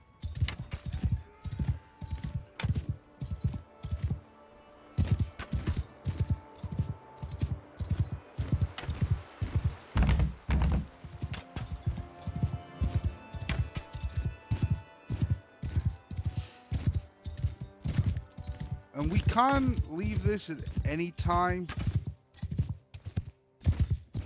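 A ridden horse's hooves clip-clop steadily in Mount & Blade 2 Bannerlord, a rhythmic, loud, continuous gait with a brief neigh near the end, and someone speaks briefly over it.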